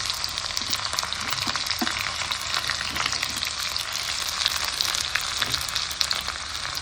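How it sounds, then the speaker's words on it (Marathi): Onion frying in oil with cumin and curry leaves produces a steady, dense sizzle close by, with scattered pops and a few light stirring scrapes, no speech. "कांदा थोडा परतून घ्यायचा"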